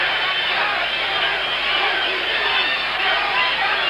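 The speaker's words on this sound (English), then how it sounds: "And the crowd baying with them now." A boxing crowd roars at the fighters during a 1984 heavyweight bout, Tim Witherspoon against Pinklon Thomas: a dense, steady wall of loud arena noise that holds for the whole stretch with no break.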